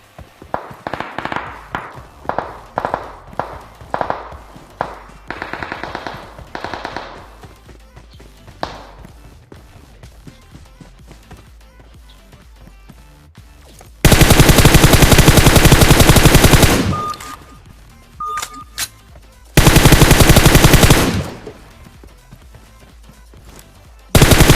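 Bursts of automatic gunfire in the mobile battle royale game PUBG Mobile at a military base: two long, loud sustained volleys separated by a pause, after softer scattered shots and tapping early on.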